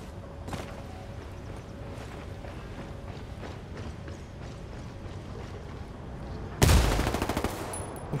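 A quiet stretch of low background noise in a video game is broken near the end by a sudden loud burst of rapid gunfire that rattles on briefly.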